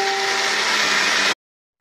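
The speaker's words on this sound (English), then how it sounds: "It'll blend it really good. And the Nutri Ninja's easier to clean than a blender." A Nutri Ninja blender whirs loudly and steadily as it blends a fritter mixture of finely cut mussels and garlic, then cuts off abruptly into silence.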